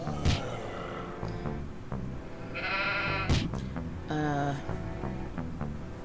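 Sheep bleat in a cartoonish video game, two wavering nasal calls standing out over a busy game soundtrack of rhythmic music and effects.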